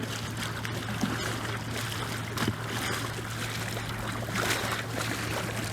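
A paddle works the water beside an R1 raft with sideways draw and pry strokes, heard as soft splashes and swirling washes over a steady low hum and rushing background, with no talking.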